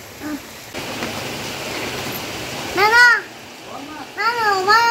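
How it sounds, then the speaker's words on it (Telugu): Steady heavy rain hisses in the background in a village while children's voices call out and chatter over it, some shouts rising in pitch. "వానే వాన ఎంత పెద్దగా వస్తుండే"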